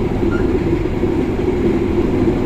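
New economy-class Bangunkarta train rolling along the rails, a steady low rumble with a faint rhythmic clatter of wheels heard from inside the carriage.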